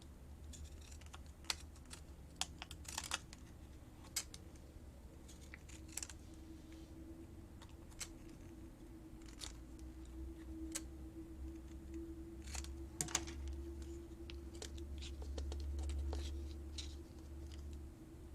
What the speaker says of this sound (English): Let's see if I can just kind of snip around here.